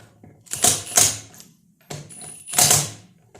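First-generation Milwaukee Fuel impact wrench on power setting 1 tightening lug nuts on a 2017 Kia Niro, giving three loud clustered bursts of sharp mechanical clicking and rattling with short pauses between, close by and alone.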